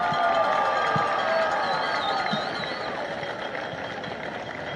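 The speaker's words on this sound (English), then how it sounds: "Please give these young ladies and their escorts a round of applause" Crowd applause and cheering at a high school football game homecoming ceremony, a dense steady wash of clapping from stands with sustained crowd noise and a whistle-like tone, continuous throughout.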